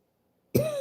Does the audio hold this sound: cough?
yes